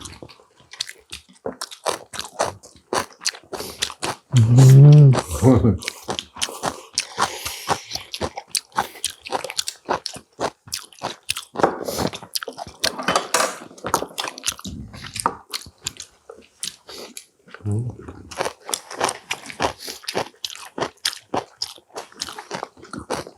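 Crunching and chewing of kimchi, kimchi made from kimjang napa cabbage, during a Korean family meal, with steady close bites and mouth sounds and a few louder bursts throughout.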